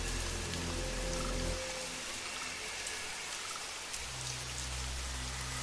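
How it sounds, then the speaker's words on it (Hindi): Heavy rain pours steadily in a thick, constant hiss, with a low rumbling undertone throughout. "फिर तेज बारिश शुरू हो गई।"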